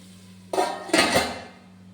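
A metal pot lid clanks shut over a paneer gravy cooking in a pot, two close, sharp metallic knocks against a steady low hum.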